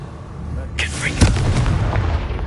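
Bombarda blasting spell from Hogwarts Legacy, a single sharp magical blast that bursts in partway through and leaves a brief rumbling tail over low game ambience.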